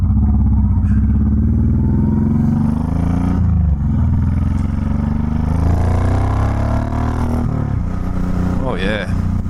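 A Honda VTX1800 cruiser motorcycle rumbles and builds speed on a ride, its deep, loud engine drone steady and close, with a rider talking over it and a brief change in pitch near the end.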